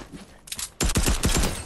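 Rapid bursts of automatic gunfire ring out in a Fortnite match, a few lighter shots followed by a dense, loud volley of closely spaced cracks.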